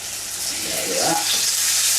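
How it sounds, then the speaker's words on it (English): Crushed shallot frying in hot oil, giving a steady close-up sizzle that grows slightly louder over two seconds. "I just crushed the shallot and put in the oil."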